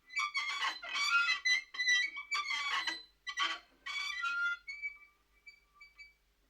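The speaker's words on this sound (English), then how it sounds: "It's the sound of a swing moving back and forth." A swing creaks and squeaks in repeated rhythmic strokes as it sways back and forth, close by, then fades to fainter squeaks.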